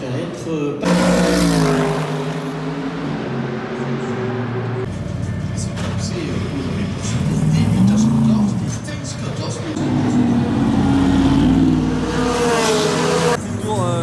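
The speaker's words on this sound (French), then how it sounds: "On voit les premières voitures qui partent." GT3 race cars pull away at Spa during a first practice day, loud engines revving and accelerating nearby in overlapping waves, with gear changes and rising pitches as cars pass, while a voice talks underneath.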